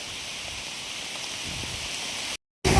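Steady hiss of heavy rain pouring down on a mango tree, a continuous wash of noise with faint patters, cut off by a brief silence near the end.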